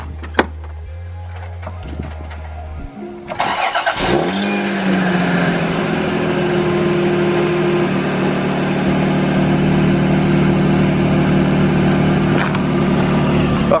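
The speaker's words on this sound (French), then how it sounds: "on va essayer de démarrer le moteur, voir un peu si ça tient" Toyota Supra MK3 engine cranking with the starter for a few seconds, then firing up and settling into a loud, steady idle that holds to the end.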